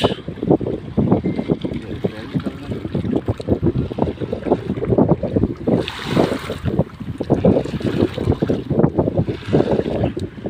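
Strong wind buffets the microphone on the Jamuna river during pangas fishing from a boat, a loud continuous rushing roar with gusty surges and a hint of water beneath it.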